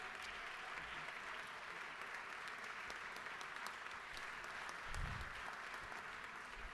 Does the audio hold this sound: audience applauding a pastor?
yes